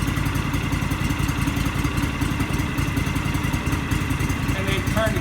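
A gas-powered Aztec LowRider floor burnisher runs steadily, its engine chugging loud and continuous throughout.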